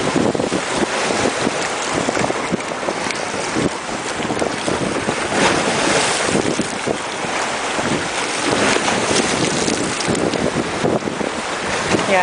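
Strong wind buffets a pier on a windy day, roaring steadily against the microphone while waves wash and surge underneath in a continuous, loud rush with no voices.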